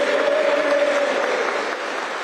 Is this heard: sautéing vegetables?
no